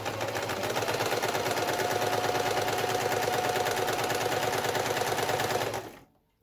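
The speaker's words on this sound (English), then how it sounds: "I'm going to sew them in production line, so I'll sew all of them on one side" A sewing machine runs steadily, stitching patchwork quilt pieces with a rapid, even mechanical chatter. It is close and continuous, then stops abruptly near the end.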